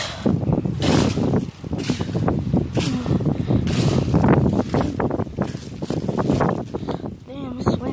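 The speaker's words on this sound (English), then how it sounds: "Damn, it's windy." Strong outdoor wind buffets the microphone with a loud, continuous roar and rushing gusts throughout, while people talk close by beneath it.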